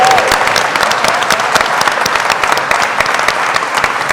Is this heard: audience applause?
yes